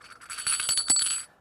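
A coin drops into a glass during a close-up magic routine, giving a bright ringing clink with a short cluster of light metallic taps that fade within about a second, close and clear with no talk.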